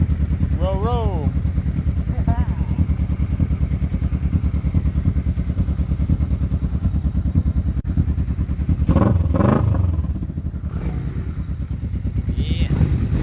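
A 1996 Kawasaki Vulcan 500 motorcycle engine idles steadily and close by after a carburetor fix, a continuous low throbbing with a brief rise near the end, while a person talks over it.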